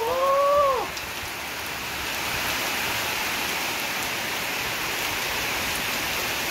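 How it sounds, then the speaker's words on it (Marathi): Steady rain over a Konkan village, a dense even hiss that holds throughout after a brief high whistling tone at the start, with no voices. "बरं झालं चांगला पाऊस आला"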